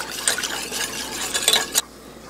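A utensil scrapes and stirs flour and water paste in a pot over heat with quick rhythmic strokes, close and clear, then stops abruptly.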